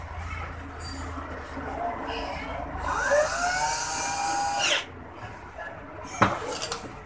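A cordless drill whirs while driving screws into an audio mixer, a rising motor whine lasting under two seconds, followed by a brief sharp clatter and scattered handling noises.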